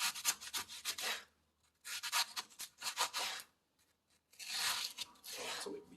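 A knife slices a carbonara ingredient into small pieces on a cutting board, giving three bursts of rubbing, tearing cuts with short pauses between them. The cuts are close and fairly quiet, with no talking.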